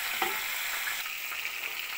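Cockerel frying in a hot pan, a steady close sizzle and crackle with small pops as the bird is turned, no voices over it.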